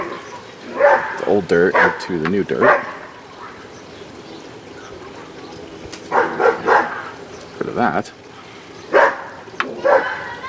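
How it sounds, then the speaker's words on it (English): A neighbor's dogs bark in short bursts, a cluster of sharp yips early, then more barking a few seconds later, while a person talks nearby between them while repotting a Venus flytrap. "Neighbor's dog's got a little rambunctious there."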